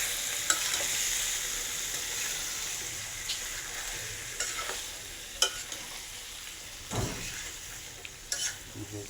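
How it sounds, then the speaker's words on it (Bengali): Meat frying in a pan, being stirred: steady sizzling with occasional scraping and knocking of the spoon against the pan, close by. "মাংসটা ঢেলে দিলাম। একটু দিয়ে নাড়াবো, সেটা মিলে যাক।"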